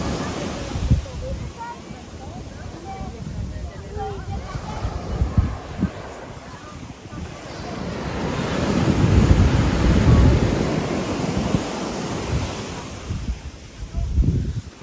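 Surf rolls and washes onto a beach in Guadeloupe, swelling in the middle and under steady wind buffeting the microphone.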